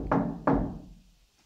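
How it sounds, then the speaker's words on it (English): Two firm knocks on a door or wall during a paranormal investigation on a rainy night, close and loud, each with a short resonant decay, then near-silence. "Maybe you can knock for us."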